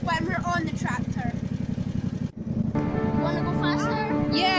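Riding lawn mower tractor engine running steadily close by, a loud continuous drone with a brief dip partway through, while voices talk over it.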